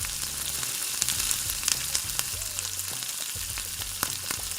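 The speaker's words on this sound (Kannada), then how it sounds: "2 ಲವಂಗ, 1 ಚಕ್ಕೆ, ಸ್ವಲ್ಪ ಕಡಲೆಕಾಯಿ ಮತ್ತು ಈರುಳ್ಳಿ ಹಾಕ್ಕೊಂಡು ಚೆನ್ನಾಗಿ ಹುರ್ಕೊಳ್ಳಿ" Two cloves, a piece of cinnamon, peanuts and onion fry in a pan for a coastal-style fish curry, giving a steady close sizzle broken by scattered small crackles and pops.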